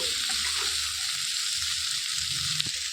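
Bitter gourd fries in oil, producing a steady, bright sizzle heard close up, with faint stirring underneath and a single small knock near the end.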